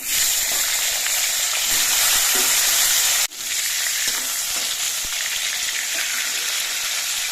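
Pointed gourd pieces fry in oil with a dense, continuous sizzling hiss, close and loud, briefly dipping for an instant before bubbling on just as strongly.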